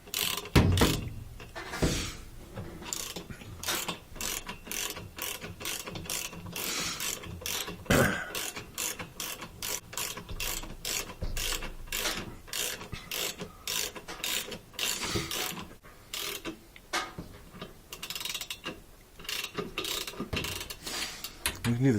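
A ratchet tightens the drum shaft nut on an LG washing machine, a fast close clicking run of pawl ratchets in repeated strokes, continuous and loud without talk.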